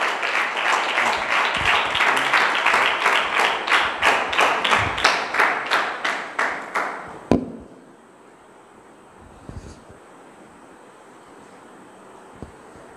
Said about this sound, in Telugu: వారు వచ్చుచుండగా చప్పట్లు కొట్టి వారిని ఆహ్వానిద్దాం.